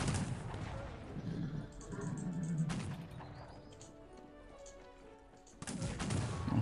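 Cannon blasts and musket volleys from a large battle in the strategy video game Cossacks 3, with repeated booming shots and crackling gunfire in loud bursts at the start, around the third second and near the end.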